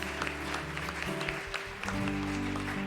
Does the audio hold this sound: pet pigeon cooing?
no